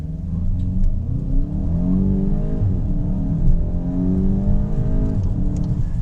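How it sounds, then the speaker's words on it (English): A 2025 VW GTI accelerating hard, its engine note sweeping upward in steady rising pulls with brief dips at gear shifts, a continuous loud drone heard from inside the car. "let's do a little acceleration"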